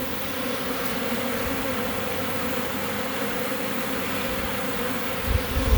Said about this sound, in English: recognize this situation in a swarm of bees